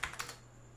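A few quick, faint keystrokes tap on a computer keyboard while someone types an address during a local WordPress install on a Windows computer, heard alone in a quiet room.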